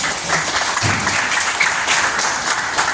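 Steady, fairly loud applause from an audience of teachers and students during a visit to a regional disaster management agency, many hands clapping densely without a break for the full few seconds.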